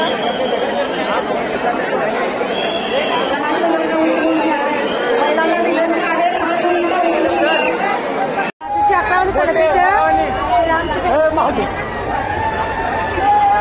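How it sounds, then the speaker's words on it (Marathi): A dense festival crowd in Pune fills the air with loud, close babble of many overlapping voices. The clatter of the throng is cut by a sudden brief dropout, after which the chattering crowd continues. "गर्दी खूप आहे प्रचंड."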